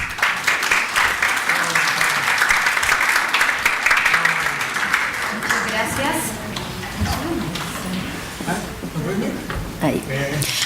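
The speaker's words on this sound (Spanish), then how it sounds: "le pido que la reciban con fuertes aplausos" An audience at a talk on human trafficking gives a loud welcoming round of applause for a speaker, strong clapping for about five seconds that thins into scattered claps under voices.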